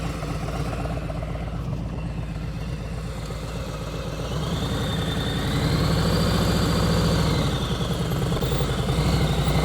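Motorcycle engine running steadily at low speed during a slow-speed riding lesson, a continuous low mechanical drone that rises slightly in loudness partway through, with faint talk in the background.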